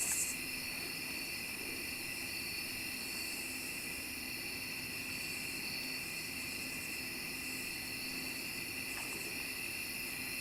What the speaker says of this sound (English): All these crickets and bugs and stuff